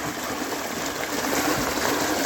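Steady running water, a continuous close rushing and splashing flow with no pauses.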